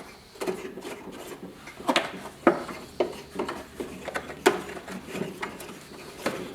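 Lengthened bolts are removed from a DeWalt DW735 thickness planer, with irregular metallic clicks, rattles and knocks from handling the parts, close and moderately loud, with no talk.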